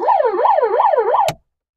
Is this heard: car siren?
yes